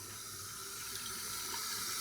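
Old toilet that won't shut off, its worn fill valve letting water run constantly and spill down the overflow; a steady, close, continuous hiss of flowing water with no pauses.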